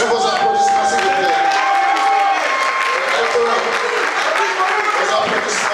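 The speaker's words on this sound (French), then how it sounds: "Sur vos applaudissements, s'il vous plaît." A crowd at a university New Year's greetings ceremony gives dense, sustained applause with some cheering, loud and continuous, while voices carry over it.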